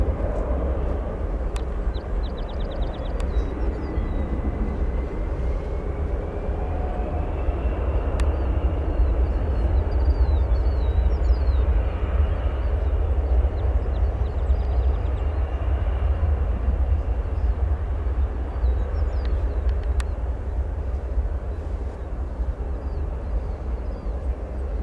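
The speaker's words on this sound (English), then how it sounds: "Going over to a departing SAS A330 headed off to Copenhagen" An SAS Airbus A330 bound for Copenhagen departs O'Hare Airport, a sustained low jet engine roar building and holding for about twenty-five seconds, heard from a distance with faint bird calls and no talking.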